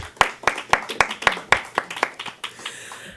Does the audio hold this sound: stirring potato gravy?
no